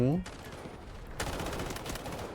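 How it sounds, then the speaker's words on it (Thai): Enemy gunfire in the shooter game Delta Force crackles in a rapid, continuous burst, fairly faint and distant, following a brief voice at the start. "เออมันยิง มันยิง"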